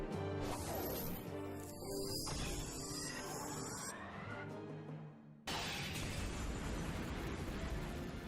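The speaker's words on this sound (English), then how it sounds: "the sword of rock breaks." A rock sword breaks in the Fate/Stay Night visual novel game: a loud crashing, shattering burst with ringing debris, then an abrupt cut into a second harsh crash.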